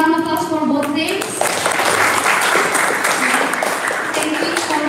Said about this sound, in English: let's give a round of applause for both teams